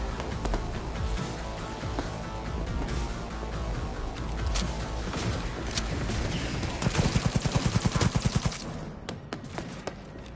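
Automatic weapon fire in the video game Cyberpunk 2077 during a firefight, with scattered sharp shots building into a rapid, loud burst of machine-gun fire near the end over a busy game soundscape.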